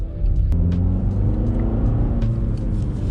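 A Volkswagen Golf fitted with a K&N air filter gives a low, steady engine rumble that swells slightly as it accelerates, heard from inside the car with faint clicks and no talk.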